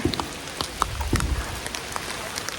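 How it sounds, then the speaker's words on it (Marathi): Steady rain patters down outdoors at a mangrove trail near Vishnu Theertham in Gokarna, a continuous wash of drops with scattered sharper splashes close by, with no voices. "आणि पाऊस चालू आहे"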